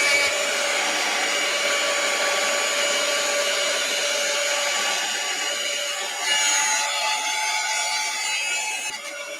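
A heat tool blows steadily and loudly while drying freshly painted paper: one continuous, even whir that runs for about nine seconds, close by, with no voices.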